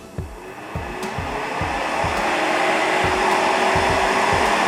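High-RPM electric nail drill, a Makartt nail file machine, whirring steadily and building in pitch and loudness as it spins up, close and continuous with faint clicks underneath and no voices.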